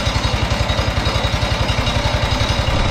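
An old Wisconsin engine driving a Leland alternator generator runs at a steady idle, its close, loud chugging firing pulses repeating in an even, rapid rhythm throughout.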